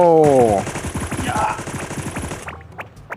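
Rapid automatic gunfire from the Sausage Man video game rattles in a fast, even burst for about two seconds, loud and close, then stops as faint game sounds and brief chatter follow.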